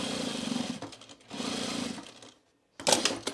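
A sewing machine stitching fabric bowl cozies runs in three close, steady bursts of rapid mechanical whirring, with brief pauses between runs.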